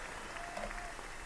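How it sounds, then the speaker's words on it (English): Applause carried over a radio broadcast, a brief, even wash of clapping at moderate distance with no distinct voices. "lots of applause going on here today, folks"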